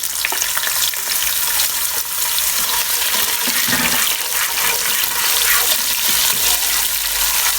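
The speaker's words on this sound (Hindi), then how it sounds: "अब इनमें हम बाकी के नट्स ऐड कर लेंगे।" Fennel seeds and nuts fry in a pan, giving a loud, continuous hissing sizzle with faint scraping from stirring throughout.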